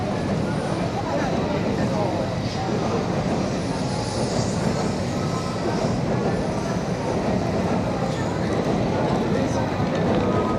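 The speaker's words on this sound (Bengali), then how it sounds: "এটি হলো শিনকানসেন, জাপানের হাই স্পিড ট্রেন" A Shinkansen N700 series high-speed train rushes past near Yurakucho Station in Tokyo's Ginza, a loud, continuous roaring rumble heard under a voice talking.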